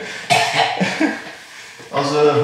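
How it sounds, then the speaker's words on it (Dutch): Coughing from dust inhaled while sweeping out a garage: several harsh coughs come close to the microphone in a short burst, with a pause before a final cough. "Als we hoesten op camera, nee, we hebben geen corona, we hebben gewoon te veel stof ingeademd zonder vloer."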